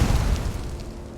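A fire spell cast in Skyrim erupts in a loud, low booming burst that rolls and slowly fades over about a second, with no talk over it.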